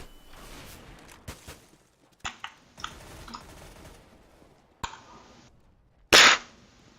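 Gunshots ring out in a competitive video game: scattered sharp cracks amid light keyboard clicking, then one loud, close blast near the end.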